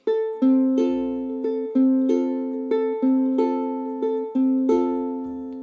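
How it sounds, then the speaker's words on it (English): Finger-picked ukulele chords ring out in a steady repeating pattern, clear and close, each chord plucked note by note with no voices. "That's how you do the finger pick for the song"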